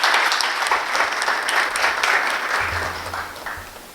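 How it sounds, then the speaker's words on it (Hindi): Sustained applause from a poetry gathering's audience welcoming a poet, loud and steady before tapering slightly near the end, with a faint low hum underneath. "एक बार जोरदार तालियों से हम उनका स्वागत करते हैं."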